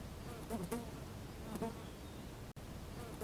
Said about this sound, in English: Kids, this is horsefly.